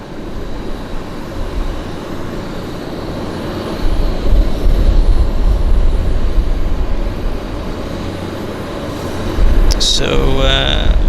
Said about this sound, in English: you like the taxing small aircraft